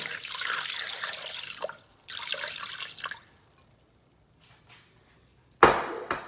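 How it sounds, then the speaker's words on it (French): Tap water runs into a Thermomix bowl for a rinse in two close bursts of splashing flow, followed by near silence and one last short, loud splash. "Donc je rince votre bol."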